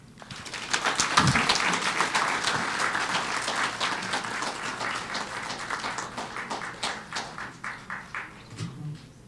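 Sustained audience applause for the Minister for Health at a Grenada diaspora town hall in Montreal, a dense, steady wash of many hands clapping close by for about nine seconds before thinning out at the end.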